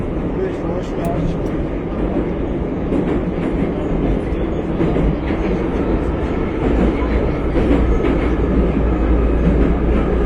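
A metro train rumbles steadily underground, with a continuous low roar and rattling clatter while people talk over the noise.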